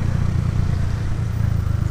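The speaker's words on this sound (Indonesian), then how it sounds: "Mesin berisiknya kedengeran gak ya?" Minerva R150 VX 2010 motorcycle engine running steadily while riding, a loud, close, low rumbling drone with rattling mechanical clatter and road noise, no voices.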